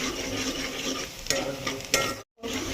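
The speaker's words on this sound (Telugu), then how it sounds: "ఉల్లిగడ్డలు ఎర్రగా అయ్యేదాకా వేంపుతూ ఉండాలి" Onions frying in a pan for Telangana-style mutton curry, a steady close sizzle with stirring scrapes and a couple of sharper clinks, briefly cut to silence near the end.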